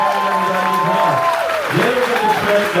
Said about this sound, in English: Give a round of applause to the staff and everybody here.